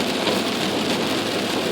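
Steady, heavy rain hisses continuously, a dense even patter with no pauses and no voices.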